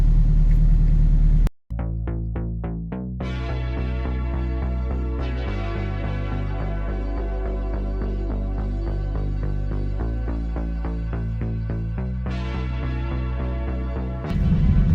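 A Toyota MR2 engine starts with a brief gap, then settles into a loud, steady running drone close by as the car pulls away, the note rising and falling with revs; no one speaks.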